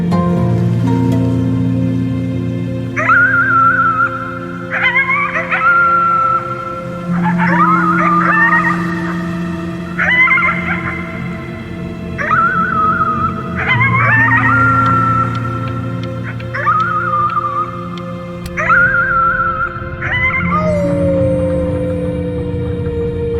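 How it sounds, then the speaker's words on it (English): A sick child in the video game Before Your Eyes howls at the moon, giving repeated loud wavering howls in bursts over a steady musical drone, without speech. "You howled at the moon, at the top of your lungs."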